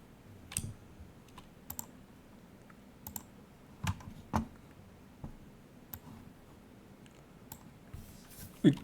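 Someone types on a computer keyboard in a quiet room: sparse, faint key clicks come in small clusters separated by pauses, with no voice over them.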